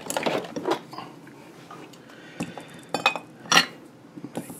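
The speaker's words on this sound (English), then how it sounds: "Hit it with some tip cleaner too" A hot soldering iron tip jabbed into a tip cleaner a few times, giving short metallic clinks and scrapes in irregular bursts, close and fairly quiet.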